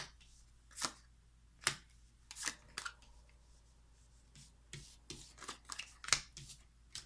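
Tarot cards are spread out across a surface for a reading, with soft scattered swishes and light taps, quiet and irregular against a faint low hum.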